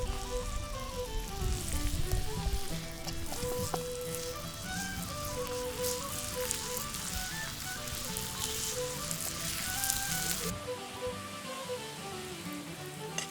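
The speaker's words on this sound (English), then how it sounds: "you got to keep these moving while they're cooking, or else that sugar will burn in there." Pumpkin pieces cook in butter and sugar in a pan, following an 18th-century recipe. A soft, continuous sizzle sits beneath a louder melodic music track throughout.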